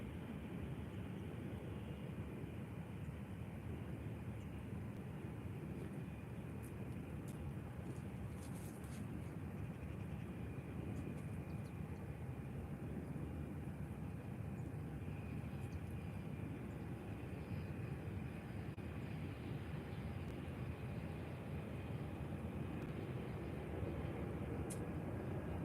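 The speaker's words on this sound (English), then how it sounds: "So now it is time for a private jet from Zurich, Gulfstream G200 Galaxy from Zurich." Gulfstream G200 Galaxy private jet from Zurich at Faro airport, a steady broadband jet roar that holds loud and even throughout without pause, with no voices over it.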